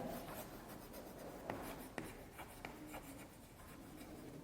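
A pen or pencil writes out an address on paper, a continuous close scratching with short stroke accents and small pauses, steady and alone without talk.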